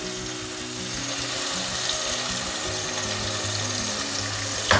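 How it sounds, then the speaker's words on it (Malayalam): Ground coconut paste is poured into a simmering Kerala-style fish curry, giving a steady bubbling sizzle with liquid splashing throughout and a brief clatter at the end. "ഈ ഒരു പാകത്തിലായി കഴിയുമ്പോൾ നമുക്ക് അരച്ചു വെച്ചിരിക്കുന്ന അരപ്പ് ഇതിലേക്ക് ഒഴിക്കാം."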